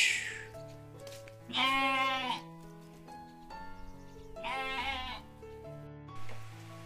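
A small sheep, just shorn in a hill village, bleats twice in distinct calls, moderately close, over a steady low hum.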